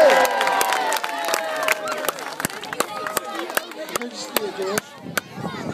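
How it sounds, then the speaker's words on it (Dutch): Applause and cheering for the boys' football team that finished first, scattered sharp claps breaking out over excited shouting and chatter from a crowd gathered for the prize ceremony. "En dan een groot applaus voor de jongens die uiteindelijk eerste geworden zijn."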